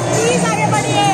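Devotees crowd an ISKCON temple during Janmashtami darshan, a dense murmur of overlapping voices filling the space with steady babble.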